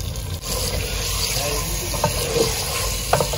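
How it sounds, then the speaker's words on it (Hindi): Chicken fries in oil while a spoon keeps turning it, producing a dense, close sizzle with small scraping clicks and spatters throughout the short stretch. "तो चिकन शामिल करने के बाद हम इसको जो है वो भून लेंगे तकरीबन 5 से 7 मिनट तक"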